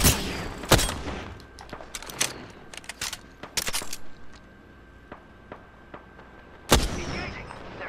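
Gunfire in Apex Legends during a match: a sharp burst near the start, a rapid cluster of shots in the middle, then scattered single cracks and a final loud volley, with no one talking.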